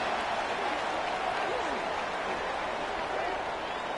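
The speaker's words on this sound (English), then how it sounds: "there's all this crowd noise" A broad, steady stadium crowd roar from a College Football 26 video game fills the whole stretch, a dense, even wash of cheering with no distinct breaks.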